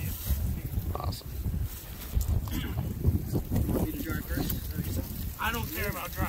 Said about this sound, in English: it's really windy. Very windy.